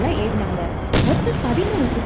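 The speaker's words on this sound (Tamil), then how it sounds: "எம்டன் கப்பலை நிறுத்தி அங்கிருந்து பீரங்கி கொண்டு" Cannon fire from the German warship Emden, bombarding Chennai from offshore, comes as a single sharp blast partway through. It sits under continuous narration and background noise.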